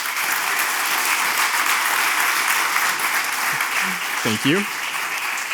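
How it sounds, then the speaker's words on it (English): An audience claps for panelists in a steady, full round of applause, and near the end a voice briefly speaks over it. "Let's give them a round of applause."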